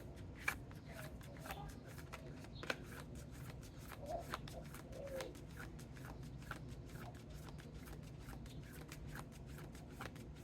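A deck of tarot cards being shuffled over and over, a steady run of soft riffling and flicking card sounds that stays close and even for the whole stretch, with no talking.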